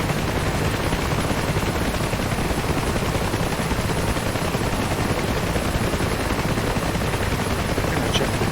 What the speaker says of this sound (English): Gonna take off now because otherwise my helicopter is gonna start rolling